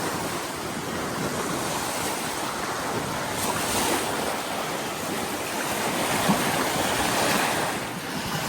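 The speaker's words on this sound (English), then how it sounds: "Those waves lapping in." Waves lap steadily onto a large French lake shore by a fishing bivvy, a constant close wash of water with wind noise and no talk.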